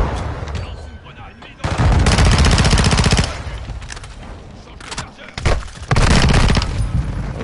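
P90 fire in Warzone, loud rapid automatic bursts in two main strings with short pauses and scattered shots between them, close and dominant.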